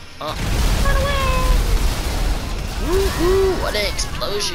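Bursts of explosions in the video game Grand Theft Auto V, with booms and pops mixed among whistling tones and game sounds, loud and continuous throughout.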